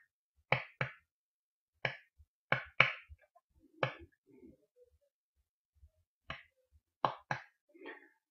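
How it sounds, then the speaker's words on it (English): Sharp dry hand claps with no reverb, about a dozen isolated hits in an uneven rhythm, close and crisp with silent gaps and no room tail between them. "So what I've done here is to record a hand clap track for you to listen to with the two different reverbs."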